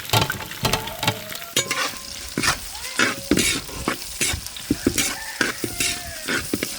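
Onions frying with snake gourd in a pan for a Tamil-style snake gourd fry, stirred with a spatula in repeated scraping strokes over a steady sizzle, close and fairly loud, with occasional clinks of utensil against the pan.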